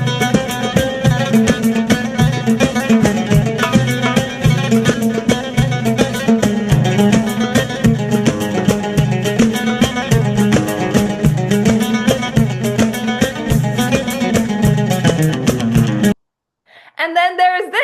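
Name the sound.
funky Arabic song in maqam Saba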